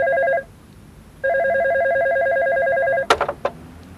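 A telephone rings loudly in an office, giving two electronic trilling rings with a short gap between them, then a few sharp clicks as the handset is picked up.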